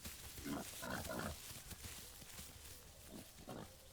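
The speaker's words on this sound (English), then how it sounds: "A pig." A wild boar grunts and oinks in the survival game The Isle, several short, fairly faint grunts in two clusters against a low outdoor ambience, with no talking.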